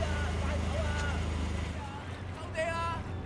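A vehicle engine idling in the Sleeping Dogs video game, a steady low rumbling drone throughout, with voices speaking over it.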